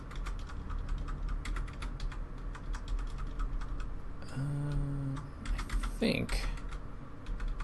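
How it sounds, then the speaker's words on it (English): Rapid mechanical keyboard clacking runs steadily throughout, a dense patter of key strikes with brief talk and game sounds layered in midway. "Using that mechanical keyboard to its full potential, clacking away."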